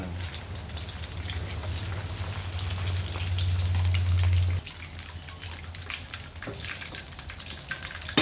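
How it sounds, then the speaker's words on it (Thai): Steady broadband sizzling and crackling of tilapia deep frying in hot oil, with a low hum that drops away partway through. "ทอดไปเรื่อยๆครับจนกว่าเนื้อปลาของเราจะเหลืองสุกนะครับ"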